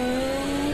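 A car drifting in a racing game produces a sharp, steady tire squeal, a sustained high whine over engine noise, very short and loud.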